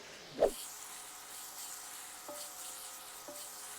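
Lasagna sauce ingredients sauté in a pan as rock salt and black pepper go in. A sharp burst of sizzle comes near the start, then a quiet, steady frying hiss continues with a couple of faint clinks.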